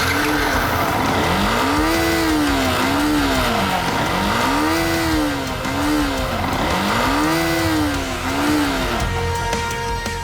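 A motorbike engine revs loudly and continuously, rising and falling in repeated surges at close range, with no talk over it.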